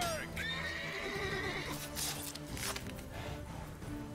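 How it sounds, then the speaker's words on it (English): Horses in The Witcher 3 video game give a sharp neigh near the start, followed by hoof clatter and galloping amid battle noise, with people talking over it. "I love how the horses get spared and are able to gallop off."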